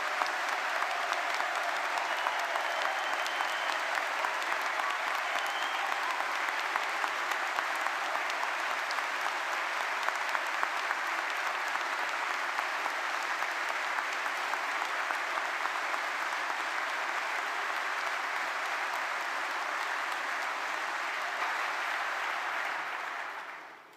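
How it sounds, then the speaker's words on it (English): Audience at a summer graduation ceremony gives the new graduates a long, steady round of applause, dense clapping sustained for over twenty seconds before it stops abruptly. "Please, could you give all of our new graduates a big round of applause?"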